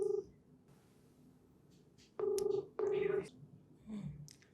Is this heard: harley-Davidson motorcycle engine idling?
no